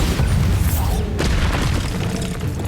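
A Bombarda explosion spell booms in the video game Hogwarts Legacy, a loud, dense blast that fills the whole moment with a sustained roar, heavy low rumble and crackling debris, with no talking.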